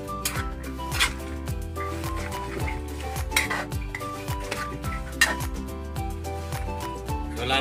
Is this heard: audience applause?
no